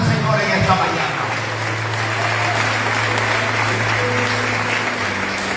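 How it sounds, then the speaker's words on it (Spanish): A church congregation applauds during a Sunday morning sermon, broad steady clapping with a sustained low musical hum beneath it, continuous and fairly loud throughout. "dale otro aplauso al Señor en esta mañana"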